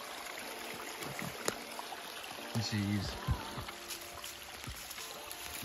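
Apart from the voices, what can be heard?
water trickling over small waterfalls in a creek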